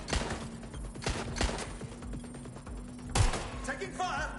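Video game gunfire comes as scattered shots and short bursts over a steady background hum, with a sharp close blast near the end.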